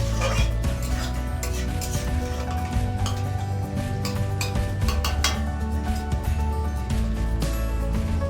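Spatula stirring bottle gourd and prawns in a pan, rapid close scraping and clinks over a constant sizzle, no speech.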